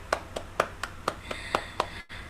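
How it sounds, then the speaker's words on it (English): A short round of applause in an online youth webinar: about eight evenly spaced, quiet hand claps from a single nearby participant, ending abruptly. "So let us big round of applause again to her."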